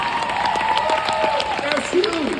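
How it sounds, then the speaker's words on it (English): Conference crowd applauds briefly, a continuous wash of many hands clapping beneath a voice talking over the room. "You give them a round of applause real quick."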